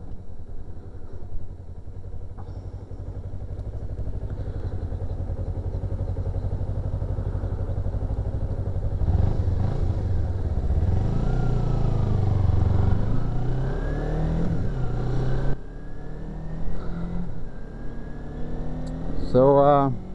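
A motorcycle engine rumbles at a low idle, then revs and pulls away, the pitch rising through gear changes with wind noise building as it rides off; someone talks over it.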